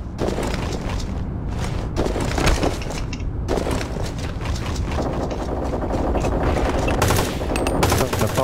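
Dense, continuous gunfire with rapid bursts and heavy booms, loud and sustained throughout, an intense firefight in a game, with faint Portuguese voices underneath.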